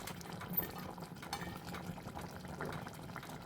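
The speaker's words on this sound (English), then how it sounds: "Just let it simmer now." Chickpea curry simmers in a pot on a turned-down stove, giving a steady, close bubbling and gurgling that keeps going without a break, with no voices over it.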